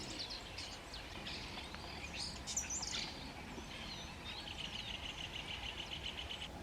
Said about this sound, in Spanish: Muchos estorninos posaban sobre las ramas sin hojas.